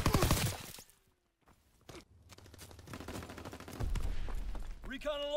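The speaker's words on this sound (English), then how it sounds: "Taking heavy fire!" Heavy gunfire in the WW2 shooter Call of Duty: WW2, a burst of dense shots at the start, then a brief lull and a steady rumble of battle with scattered impacts, with radio-style voices in the mix.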